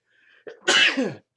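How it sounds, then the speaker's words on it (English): A single close sneeze: a short inhaled catch, then a sharp, loud burst that trails off quickly. "Thought that was a sneeze. It is."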